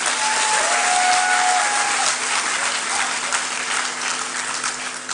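Sustained applause from the audience at an onboarding and matriculation ceremony, a dense steady clapping that holds at full level for several seconds and then eases slightly toward the end, with a faint tone or hum underneath.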